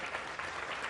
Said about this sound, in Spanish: Un aplauso para María Guadalupe Silva.